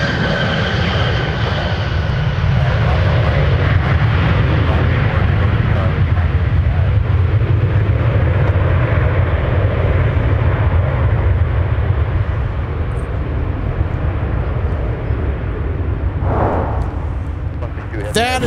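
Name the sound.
United airliner arriving at MSP airport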